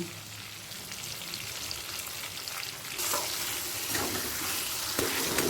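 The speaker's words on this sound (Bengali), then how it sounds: "দিয়ে দিচ্ছি একটা তেজ পাতাকে অর্ধেক করে একটা শুকনো লঙ্কাকে ফাটিয়ে দিলাম আর দিচ্ছি পাঁচ ফোড়ন" Halved bay leaf, a split dried chilli and panch phoron sizzling in hot oil, a steady close frying hiss that grows louder partway through as more goes in, with a few stirring scrapes and no talk.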